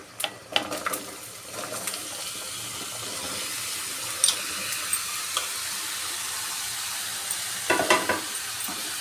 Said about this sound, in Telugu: ఇప్పుడు ఇందులోకి గుమ్మడికాయ ముక్కలు వేసుకుందాం